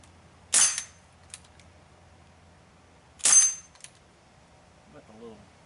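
Two sharp shots from a Crosman Iceman CO2 pellet pistol, each followed by the faint ring of pellets hitting steel targets, a few seconds apart, with a brief voice near the end.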